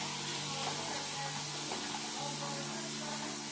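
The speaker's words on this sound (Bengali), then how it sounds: "এবার চাল আর ডাল দুটোকেই খুব ভালো করে ধুয়ে ভিজিয়ে দিই" Water runs steadily over rice and lentils being washed, a continuous close hiss and splash that stays even throughout.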